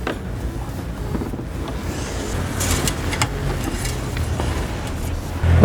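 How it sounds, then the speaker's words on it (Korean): An LPG car engine idles steadily after being started, a continuous low rumble heard up close with no talking over it. "시동 걸었기 때문에 순환을 해서"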